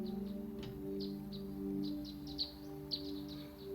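Bird calls in the video game 7 Days to Die: short, faint chirps repeat irregularly over a steady low electronic hum, with two sharper taps near the end.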